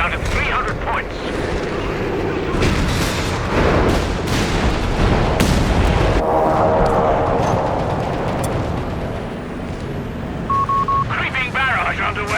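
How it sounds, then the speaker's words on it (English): A creeping artillery barrage in Company of Heroes 3 lands as repeated loud booming impacts and gunfire in a 4v4 battle, with radio-style unit voices talking over the explosions. "Creeping barrage underway. Brace for impact."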